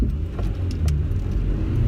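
A Honda Prelude engine runs after a clutch master and slave cylinder replacement, giving a steady low idle rumble close by with faint metallic clinks on top and no talk.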